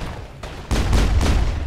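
Enemy gunfire in the shooter game Mass Effect 1, loud bursts of rapid shots, a short burst followed by heavier sustained firing.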